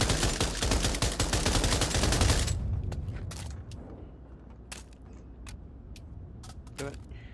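Rapid automatic gunfire on a gun range in the VR shooter Pavlov, a dense burst for about two seconds, followed by scattered single clicks and handling clatter of the weapon, up close.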